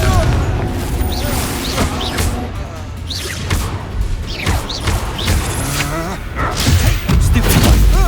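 The Confringo explosion spell going off in the Hogwarts Legacy video game, with booming thuds and crashes over game music and effects while a voice speaks in the middle.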